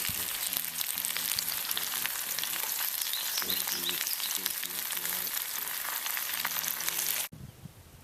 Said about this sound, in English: here frying it with butter and onions